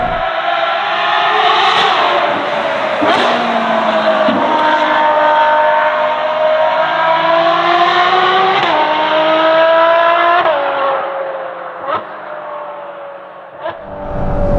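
A NOVITEC-tuned Ferrari 12Cilindri V12 revs loudly and close by, its pitch climbing and falling through repeated sweeps with sharp gear-change breaks, no voices.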